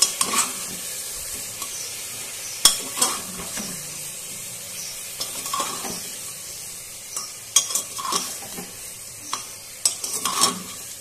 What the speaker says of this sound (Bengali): ঢাকা খুলে আরেকবার নাড়িয়ে দিচ্ছি